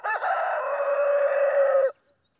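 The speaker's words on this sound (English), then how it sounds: "Lots of rooster noise." A farm rooster lets out one loud, close crow lasting nearly two seconds, a strong sustained call that cuts off sharply into silence.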